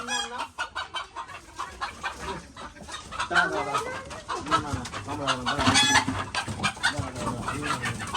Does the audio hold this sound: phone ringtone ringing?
no